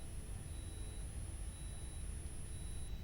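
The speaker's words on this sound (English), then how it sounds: "If you hear any beeping, it's because rice is finished." A rice cooker signals that the rice is done with faint, evenly spaced beeps, roughly one per second, over a quiet low background hum.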